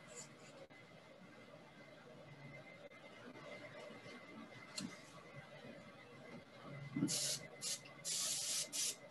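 An airbrush sprays paint over a paper stencil in several short hissing bursts near the end, following quieter handling noise.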